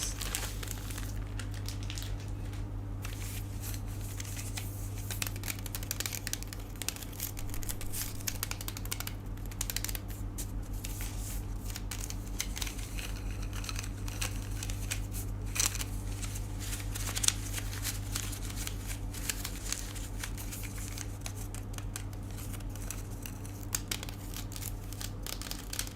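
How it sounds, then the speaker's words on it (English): Close, dry crinkling and crackling of paper straws handled continuously, with small scissor snips and rustles over a low steady hum. "I want you to hear the sounds of these straws."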